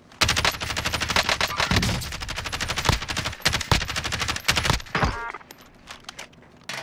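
Warzone gunfire, rapid automatic bursts of close, loud shots in a fast rhythmic stream, punctuated by a few heavier single blasts, thinning out near the end.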